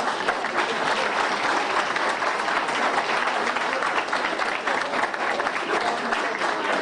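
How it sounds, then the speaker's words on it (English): A crowd at a live wrestling event breaks into sustained, even applause, loud and dense for several seconds, with faint crowd noise mixed in. "Let's give a round of applause to them"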